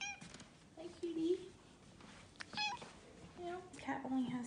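A three-legged cat meows repeatedly, several short mews close by, while someone talks softly to it between the calls.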